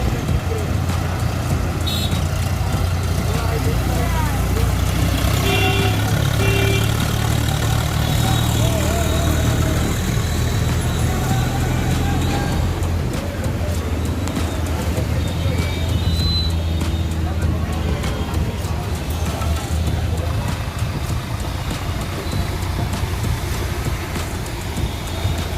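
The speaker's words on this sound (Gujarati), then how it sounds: "જુઓ આ ટ્રેક્ટરને આમાં નાખ્યું, પાછળ 4 વ્હીલરને જેસીબીને આવે છે." A tractor's engine rumbles steadily as it pushes through deep floodwater during heavy rain in Junagadh, other vehicles following behind, with people talking throughout.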